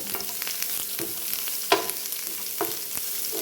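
Green chilies sauté in a pan with onion and garlic, giving a continuous crackling sizzle with sharper pops and the scrape of stirring now and then, and no talking.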